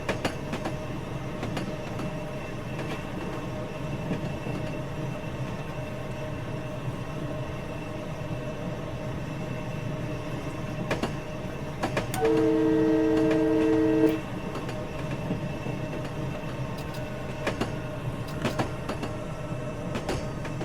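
A four-car commuter train runs in Train Simulator 2020, with a steady rumbling ride and scattered rail clicks under a horn blast of about two seconds midway, loud and close.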